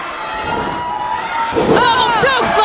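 An indoor wrestling crowd roars for Jessicka Havok after a double chokeslam in a women's tag-team match. The loud, sustained cheering swells in the second half, with shouts and whistles rising over it and a commentator talking underneath.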